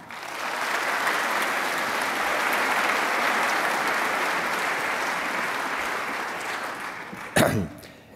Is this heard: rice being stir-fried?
no